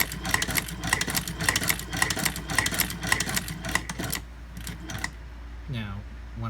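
A Muyupai leather patcher sewing machine stitches leather with a fast, even mechanical chatter for about four seconds, then stops, and a person speaks afterward.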